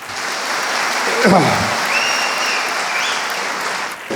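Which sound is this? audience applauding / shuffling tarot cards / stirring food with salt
audience applauding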